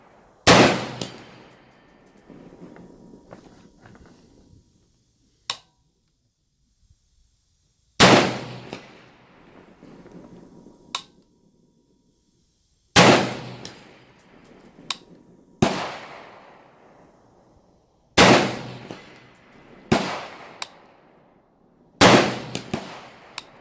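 An M16A4 rifle fires single shots, six sharp, loud reports spaced a few seconds apart, each followed by a ringing decay, with no talking.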